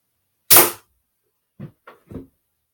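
A Daisy BB gun fires a medium-sized wood bullet with one sharp, loud crack, followed a second later by a few faint thuds and clicks in an otherwise quiet space.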